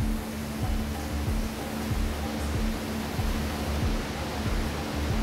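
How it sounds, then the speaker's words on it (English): Coolant sprays steadily inside an NHP series horizontal machining center, a continuous broad hiss with a low machine hum and faint regular ticking underneath. "Coolant is fired in all directions."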